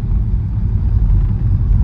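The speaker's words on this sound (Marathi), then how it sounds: "सांग असं का चालवतोयस गाडी," A car driven on the road gives a steady, loud, low engine and road rumble from inside the vehicle, continuous and alone with no voices.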